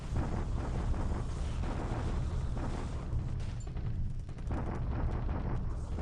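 Bombardment effect in the war strategy game War in the Pacific: a dense, continuous barrage of booming blasts and rumbling artillery fire, loud and steady throughout with no break.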